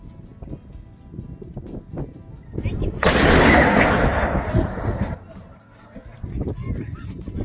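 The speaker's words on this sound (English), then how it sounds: "I watched a cannon firing demonstration." A historic cannon fires once in a demonstration aboard the museum ship USS Constellation in Baltimore's harbor, a loud outdoor boom with a long rumbling decay, set among crowd noise and wind.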